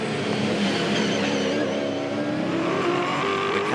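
Roaring V8 Supercar race engines at Sandown International in 2002, a loud continuous drone with shifting pitch as cars run in close draft, steady and dense throughout.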